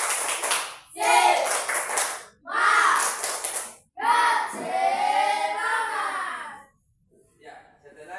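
A sixth-grade primary school class performs the 'tepuk semangat' clapping routine, with children's voices chanting in loud bursts and claps mixed in. Brief pauses separate the phrases, and it trails off into quieter sounds at the end.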